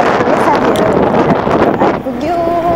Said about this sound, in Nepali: अलिक हावा यस्तो चलेर रहेछ